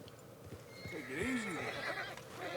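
A horse in Red Dead Redemption 2 whinnies with a rising and falling neigh over quiet background ambience, fairly close, with a speaking voice present around it.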